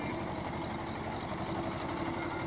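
An HMT 2522 tractor engine idles steadily nearby with an even, continuous diesel chug and no voices.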